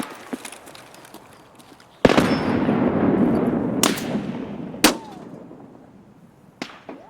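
Gunfire in the video game Escape from Tarkov: a loud close shot opens a long rolling echo, followed by a few more sharp reports and fainter distant pops.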